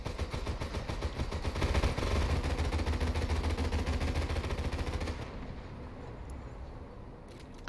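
Ship guns in War Thunder firing in a rapid, continuous rattling stream for about five seconds, then cutting off to a quieter mechanical hum, with a sharp bang at the very end.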